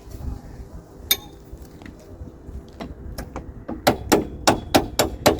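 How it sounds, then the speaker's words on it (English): A hammer strikes a chisel on a Ford Fiesta Ghia Mk6, sharp metallic blows that are sparse at first and then come in a quick run of six or so at the end, with some faint rustling between them. "This is where I chisel it in"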